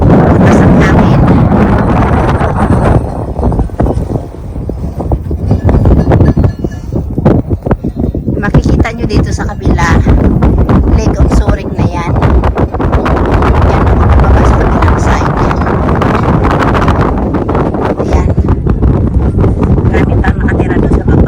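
Strong wind buffets the microphone on the Stöcklichrüz summit in the Swiss Alps during a summer hike, a loud, continuous roaring rumble with gusts, and a person speaks over it.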